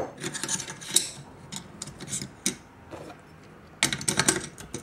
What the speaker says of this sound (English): Now everything slides back in together.